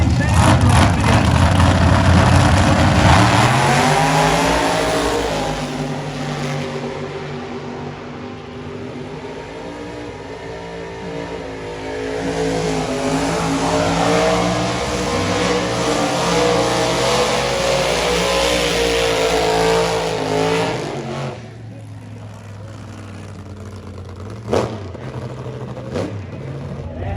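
Drag race cars with short wheelbases and high-mounted drivers launch in the Scott Ross AAF class at the Pontiac Nationals, engines roaring loud and close with rising revs and crowd chatter underneath, then dropping away after about twenty seconds.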